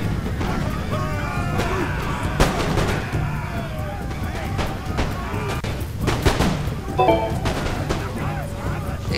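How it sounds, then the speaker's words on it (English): Musket volleys and gunfire in the Empire: Total War battle game, scattered sharp shots and crackling volleys over a rumbling battlefield din, with someone talking over it. "I also have my guards firing into his men, which is good"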